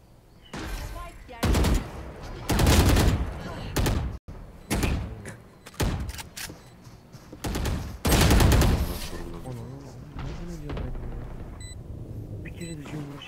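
Gunfire rings out in a tactical shooter game: several loud bursts of rapid shots and single cracks, close and punchy, spread across the stretch, while players talk over the action.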